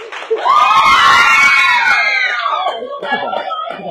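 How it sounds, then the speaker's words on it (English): Community theater audience bursting into high-pitched screams and cheers at a cast introduction, a loud swell that peaks quickly then fades into scattered whoops and chatter. "And the crowd goes wild."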